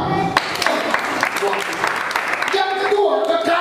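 Congregation clapping together during a church sermon, a dense steady burst of applause filling the room with music and voices mixed in underneath.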